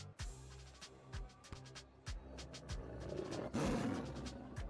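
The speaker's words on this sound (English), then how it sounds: "Peaches roars." A large creature roars in the video game Lil' Guardsman, a series of deep, loud growling roars building in intensity, heard alone without talk.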